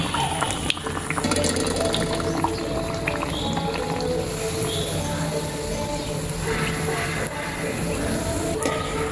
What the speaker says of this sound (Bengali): আস্তে আস্তে করে পিঠাটা আমি ভেজে নেব